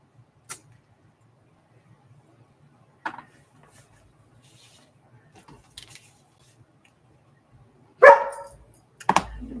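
A dog in a quiet room is mostly silent, then gives two sharp, close barks near the end, after a few faint earlier clicks and thumps.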